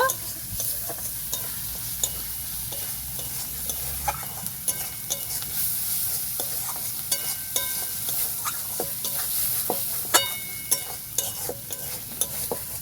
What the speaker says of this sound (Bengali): মশলাটাকে আমি ভালো করে কষিয়ে নেব।